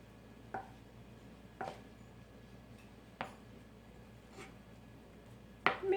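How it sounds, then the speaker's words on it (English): Carrots chopped with a knife on a cutting board during home dinner prep, five separate sharp thuds spaced irregularly over several seconds, close and crisp against a quiet kitchen background. "I think that's all my chopping."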